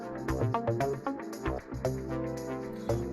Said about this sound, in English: Pretty much all the sounds you're hearing are made with a synth or the drum machine,